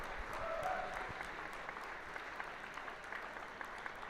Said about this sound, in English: can we have a round of applause for Mike Simmons?